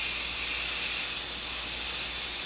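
Degreaser sprays continuously from a nozzle in a workshop, a loud, close, unbroken hiss lasting a couple of seconds with no talk over it.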